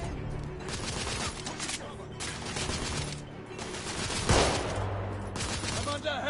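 Steampunk shooter gameplay in The Order 1886, with a sustained barrage of gunfire and bursts of automatic fire rolling continuously across the scene and a louder blast near the middle.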